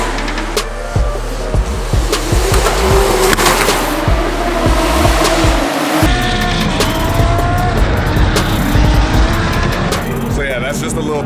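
Drift cars practice at Drift Masters GP in Poland, their engines roaring and revving loudly and continuously, with bursts of tire squeal and skidding throughout.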